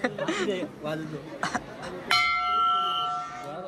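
Voices chatter briefly at the Shri Vetaleshwar temple fair, then a single bright temple bell strikes and rings out with a sustained, slowly fading metallic tone.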